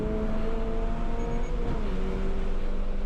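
A Toyota GR86's engine holds at full throttle through a sequence of S-bends on a race track, a steady, loud in-car drone with a brief shift in pitch midway and no voices.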